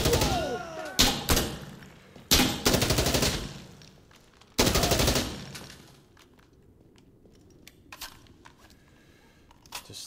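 Loud M4A1 bursts from an Insurgency Sandstorm match come in a few sharp clusters of rapid shots, followed by quieter scattered distant pops.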